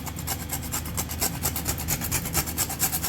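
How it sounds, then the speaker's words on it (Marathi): Nutmeg grated by hand over a sweet turmeric-leaf filling, a steady series of quick rasping scrapes in an even rhythm, close and moderately loud, with no talking. "थोडंसं हे जायफळ छान किसून घेऊया"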